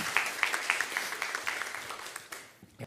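A lecture audience gives a short burst of applause, with dense clapping that fades toward the end, fairly quiet and with no voices over it.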